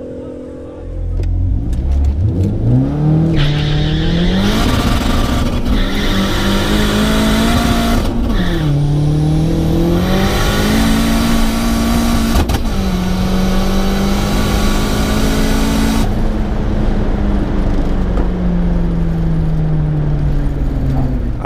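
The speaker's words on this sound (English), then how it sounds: "Car sounded good." A tuned Mk2 GTS with a 16-valve turbo engine accelerates hard on a drag strip run, loud and close, the engine note climbing repeatedly through gear changes before settling into a sustained high drone.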